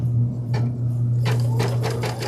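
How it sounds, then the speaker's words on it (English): Embroidery machine stitching a tack-down stitch on a knit tunic, a close motor hum with quick rhythmic needle taps that grow busier partway through, with no voices. "Go ahead and stitch out the tack down stitch."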